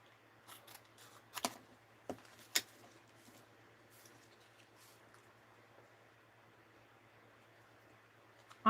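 Scissors make a few crisp snips through material while trimming around a seal, quiet and close with a steady low hum under them, then long pauses.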